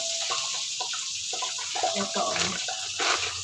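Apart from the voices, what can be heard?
water popping in hot oil in a cooking pot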